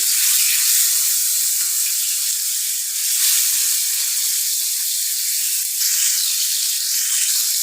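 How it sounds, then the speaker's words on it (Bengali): Fish frying in hot mustard oil in a pan, a loud, close, continuous bright sizzle and hiss with slight surges as pieces are moved or turned, no voices. "তো তেলটা গরম হয়ে গেছে, এবার আমি মাছগুলো দিয়ে দিব।"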